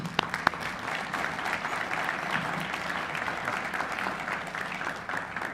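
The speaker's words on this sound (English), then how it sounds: "let's give an applause to all the people that put this together here" Audience at a city hall State of the City address applauding event organizers, a steady wash of many hands clapping throughout, moderately distant with a few sharper claps standing out early.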